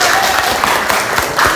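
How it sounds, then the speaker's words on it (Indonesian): Students in a classroom clap briefly together, a short burst of close applause with voices mixed in. "Tepuk tangan buat kita semua."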